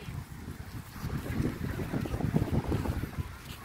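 Steady wind buffeting the microphone, a broad low rumble with gusty swells throughout, likely outdoors near water.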